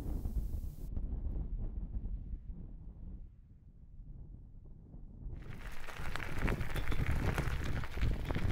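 Cold wind in Lapland gusts and roars against the microphone, rumbling and shifting in strength. It goes briefly quieter midway, then returns stronger and harsher.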